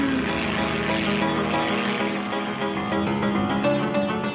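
A small toy airplane flies and climbs as a story sound effect: a continuous droning propeller engine, loud and steady throughout, with a slight shifting whine and no speech.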